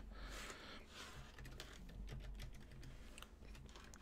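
Keys clatter on a computer keyboard in quick, steady, continuous typing, close and fairly quiet, with no voices.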